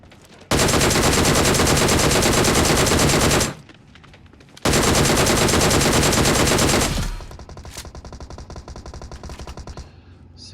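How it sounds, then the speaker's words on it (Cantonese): Automatic rifle fire in the video game PUBG pours out in two long loud bursts of rapid shots, split by a short pause, then lighter repeated game sounds follow near the end. "槍聲。"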